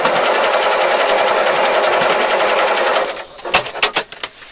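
A sewing machine stitches a quilt block corner in a fast, even run of needle clatter for about three seconds. It then gives a few slow, separate back-and-forth stitches to lock the seam.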